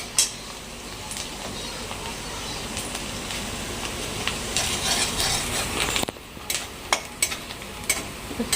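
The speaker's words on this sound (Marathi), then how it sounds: "छान असा कांदा परतून घ्यायचा मस्त पैकी." Chopped onion sautéing in a pan for a pasta dish, a continuous soft sizzle with a spatula stirring and scraping, clinking louder toward the end, no talking.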